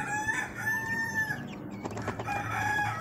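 Free-range village chickens cluck and a rooster crows nearby, with a second crow following a burst of clucking; fairly quiet, farmyard setting, no talking.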